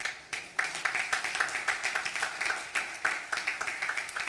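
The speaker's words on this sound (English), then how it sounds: "a hand clap" Hands clap in rhythm during a church sermon as the congregation applauds mothers, a steady, evenly spaced beat of sharp claps from many people, close and continuous with no talking.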